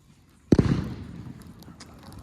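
A single Diwali firecracker or rocket bursts with a sharp close bang about half a second in, then a fading rumble and crackle of echoes, with faint distant pops afterward and no voices.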